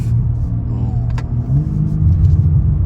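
A 2022 BMW M4 Competition xDrive engine rumbles steadily at low pitch, with soft exhaust burbles and pops rising slightly toward the end, fairly loud and close.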